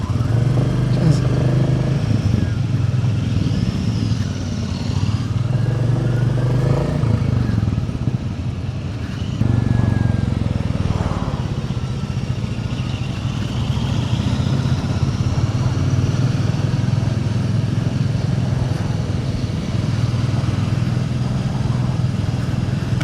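Royal Enfield Bullet 350 single-cylinder motorcycle on a demo-day test ride, engine thumping steadily close by with small rises and dips in revs and wind noise over it, with some speech mixed in.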